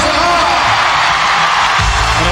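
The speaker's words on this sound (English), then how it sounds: "And a final eruption from this home crowd." A home crowd in Lyon roars after Anissina and Peizerat win ice dancing gold at the 1999/2000 Grand Prix Final. The loud cheering is a dense, sustained wash that holds steady for the whole stretch.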